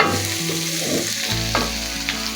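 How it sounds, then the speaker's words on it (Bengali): Bitter gourd and cauliflower fry in a pan with a loud, continuous sizzle and hiss, joined by occasional stirring scrapes and a steady low hum, with no speech. "এই যে এটাকে আরও কিছুক্ষণ একটু ভাজি করে ফুলকপিটা ভালোভাবে সেদ্ধ হলে আমি নামিয়ে নিব"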